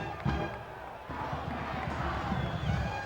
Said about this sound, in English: Some of the crowd here in Bozeman, Montana